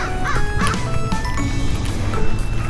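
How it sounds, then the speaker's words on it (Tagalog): Crows call out in a city park, several harsh caws ringing out one after another against steady outdoor background noise. "sigaw ng mga uwak."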